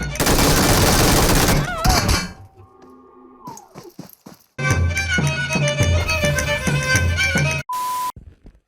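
Machine-gun fire from an MG in PUBG Mobile comes in loud sustained bursts, broken by a quiet gap with sharp clanks and ending in a short electronic beep.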